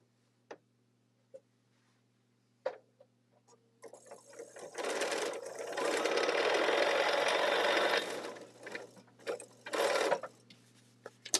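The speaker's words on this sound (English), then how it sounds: "I'm going to sew down 1/4 inch either side of my white drawn line." A sewing machine stitches a quilt block, a few isolated clicks first, then a fast whirring run that builds and holds for several seconds, stops, and gives a brief second burst.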